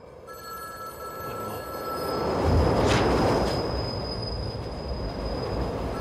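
A subway train in the Matrix subway scene roars past loudly, its rumble swelling to a peak midway and then holding, with steady ringing tones like a telephone bell running over the rail noise.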